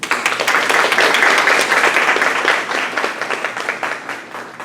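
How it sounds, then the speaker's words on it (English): A crowd at a nursing pinning ceremony breaks into loud, sustained applause, dense clapping that swells early and then slowly thins out over several seconds. "Let's join together and give those important people in our lives a round of applause."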